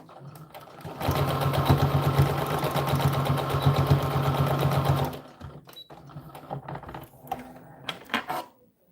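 A home sewing machine runs steadily for about four seconds, stitching the sleeve of an American Girl doll dress. The loud, even motor whir then stops, leaving quieter clicks and handling noises.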